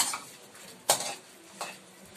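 Dried dilis fish stirred in a pan while cooking, with two sharp utensil scrapes and clinks over a soft, quiet sizzle, close by and with no talking.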